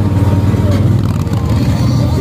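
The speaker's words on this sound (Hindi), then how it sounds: "ये बड़ा तगड़ा साउंड है बाइकर का" A motorcycle engine revs hard, loud and close, as a group of bikers from Lahore gathers with their expensive superbikes in Haripur. The roar is steady and unbroken with no talk.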